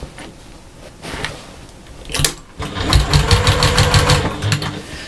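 A sewing machine stitches fabric pieces together for a lunch box, starting with a few short bursts and then running in a rapid, close mechanical rattle of repeated needle strokes.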